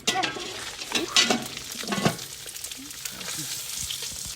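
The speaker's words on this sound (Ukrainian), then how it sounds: "Цибулька в нас смажиться, тепер додаємо морку." Onion sizzles and fries in a hot pan for lamb shurpa, with a few stirring scrapes and clinks near the start, steady and close.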